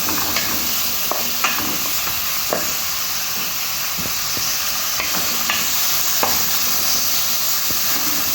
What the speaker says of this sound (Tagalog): Yan mix mix lang natin siya guys hanggat magluto